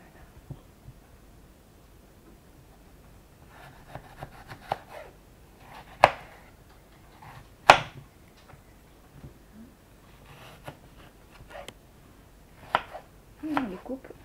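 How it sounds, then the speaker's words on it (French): Knife chopping apples coarsely on a board for a Normandy apple tart, scattered sharp cuts, some louder strikes standing out among softer taps and rubs, close and intermittent. "Et on les coupe grossièrement."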